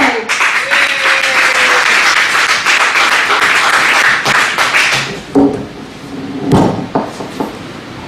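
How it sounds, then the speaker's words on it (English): An audience at a comedy night in a Richmond, Virginia bar welcomes a comedian with a burst of loud, dense clapping that thins into scattered claps and a few knocks toward the end. "Please put your hands together for Mr. Shea."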